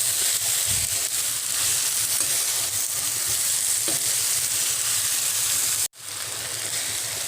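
Spinach and potatoes frying in oil in a pan, a dense steady sizzle close by with occasional stirring scrapes and a brief cut near the end, no talking.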